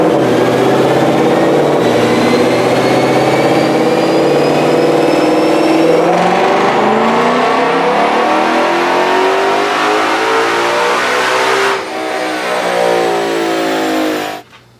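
A 2020 Ford Mustang GT500 revs hard on a dyno, its loud engine note climbing steadily in pitch through a long pull, then cutting off sharply at the end with no talking.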